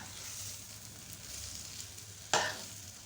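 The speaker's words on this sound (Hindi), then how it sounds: "और इसको हम इसमें मिक्स कर देंगे।" BBQ potatoes being stirred into a mixture in a pan over low heat, with a steady quiet sizzle and one sharp scraping clatter of the spoon near the end, alone without talk.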